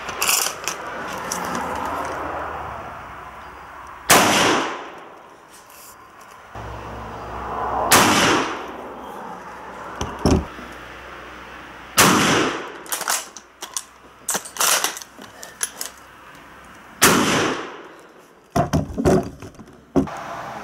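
Rifle shots of German plastic training ammunition at an outdoor range ring out one at a time, about six loud sharp cracks spaced several seconds apart, with quieter handling noise between them.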